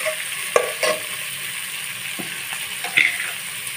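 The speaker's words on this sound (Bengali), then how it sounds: "দিয়ে মশলাটা আমি একটু সময় নিয়ে কষিয়ে নেব।" Ginger-garlic and onion paste masala fries in a pan for a mirka fish curry, a low sizzle punctuated by a handful of louder stirring clatters.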